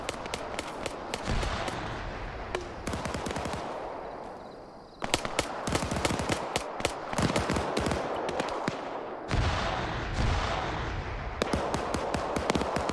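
Dense bursts of rapid gunfire in the video game Arma 3, automatic volleys and scattered single shots crackling loudly and continuously, with a brief lull midway.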